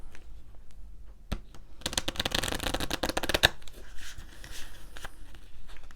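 An oracle card deck is shuffled by hand, a close riffling flutter of cards that builds into a dense burst mid-clip, with softer handling sounds before and after.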